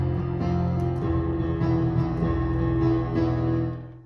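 Solo piano plays part of the FNaF movie intro, sustained low chords and octaves with a melody on top, moderately loud and close, without any voice.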